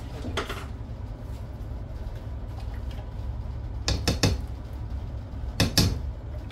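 A spatula scrapes and taps against a dish while a frozen Banquet chicken and mashed potato meal is dished out, with a few short sharp clinks in bursts over a low steady background hum.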